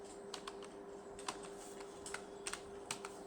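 Someone types on a computer keyboard while entering text in MS Excel, producing scattered, quiet key clicks in small bursts close to the microphone over a faint steady hum.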